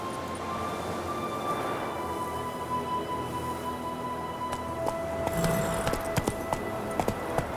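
Horse hooves clip-clopping in The Witcher 3: Wild Hunt, a steady hoofbeat rhythm over ambient game background, rising to sharper, louder footfalls near the end.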